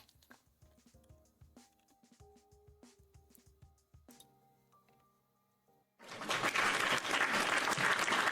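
Applause sound effect: after a few seconds of plinking keyboard notes, a burst of dense crowd clapping begins abruptly and holds loud and steady to the end.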